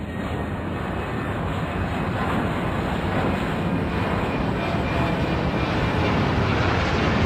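An airliner takes off in Airport Madness 3, a loud, steady engine roar that builds slightly in intensity over several seconds, with no voices.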